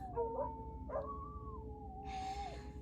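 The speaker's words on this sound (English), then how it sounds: "now he's got the other one howling." Two dogs howl together, a beagle mix among them, long wavering wails rising and falling over steady background rumble, set off by passing sirens.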